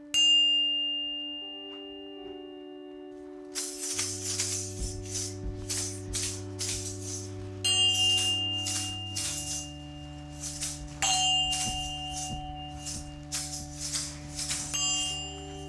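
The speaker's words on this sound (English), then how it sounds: "I'll be using this bell" A bell rung repeatedly to clear a room in a feng shui session, ringing out in clear metallic dings with long sustained tones that overlap and fade, alongside steady rhythmic clanging.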